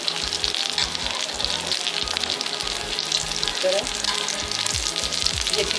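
Aloo tikki potato cutlets sizzle steadily while shallow frying in a pan over a flame, with a dense continuous crackle and occasional scrapes as they are turned.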